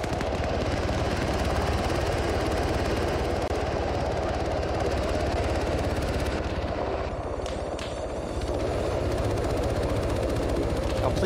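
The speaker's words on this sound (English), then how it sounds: "We got the UH-60 trying to come in." A UH-60 Black Hawk helicopter in a combat video game drones steadily and loudly for the whole stretch, with rotor and engine noise mixed with bursts of gunfire.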